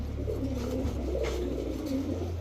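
A silver afsan grizzle pigeon coos low and continuously among other pigeons, with no voices over it.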